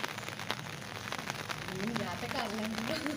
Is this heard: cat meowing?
no